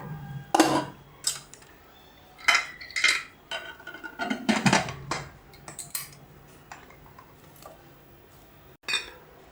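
Hot rice flour dough being moved back into a pressure cooker, with sharp metallic clinks and clatters of utensils against the cooker and vessels in uneven bursts, close and without talk.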